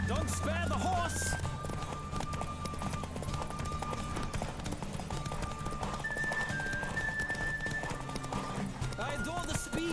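A horse gallops fast in The Witcher 3, rapid clip-clopping hooves pounding continuously with brief neighs and whinnies mixed in, under almost constant speech and game sounds.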